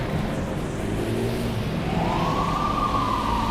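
An emergency vehicle siren wails through rainy Midtown Manhattan traffic, rising in over a steady roar of street noise about halfway through and holding a loud sweeping tone.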